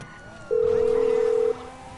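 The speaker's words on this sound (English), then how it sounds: "do you want me to phone Lester" A phone dial tone in the video game GTA: a single steady electronic tone that sounds for about a second, clear and prominent over quiet game background noise.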